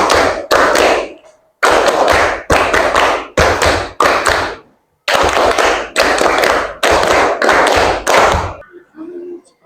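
A classroom of students performs a rhythmic clapping chant, with loud, crisp bursts of claps in tight groups of two and three separated by brief pauses, repeating steadily for nearly ten seconds before ending.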